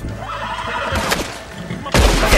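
A horse in the Red Dead Redemption 2 video game lets out loud, close whinnies, with one neigh early and a second burst near the end over a background of game ambience.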